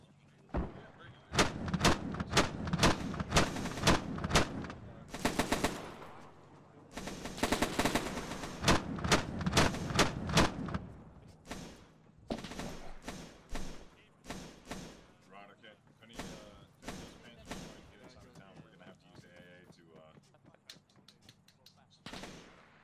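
Rapid bursts of machine-gun and rifle fire from a WWII battle video game at Chef du Pont, loud and dense, coming in long volleys and then thinning into scattered shots, with players talking over the gunfire.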